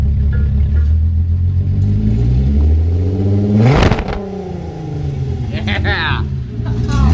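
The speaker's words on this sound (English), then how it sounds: "Now rev it." A Volkswagen Mk4 VR6 with a cherry bomb muffler revs up, a deep rumbling engine rising in pitch and then falling back, loud and close, with people talking over it.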